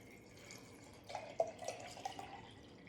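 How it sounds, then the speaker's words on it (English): Water runs faintly into a container while starting sweet potato slips, a soft trickle with a few small splashes, quiet and distant over a low background hiss. "And now we're just going to fill with water."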